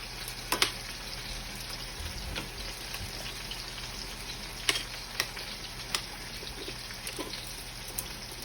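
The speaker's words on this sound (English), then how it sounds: "And I also will add my fresh garlic, minced garlic." Fresh minced garlic frying in a pan, heard as a low, steady sizzle broken by a few faint crackles and pops, with no talking.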